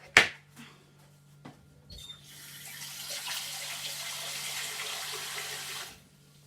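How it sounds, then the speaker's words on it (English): Running water pours steadily into a bowl for a few seconds, preceded by a couple of sharp clatters, then cuts off abruptly. "fill it up with water."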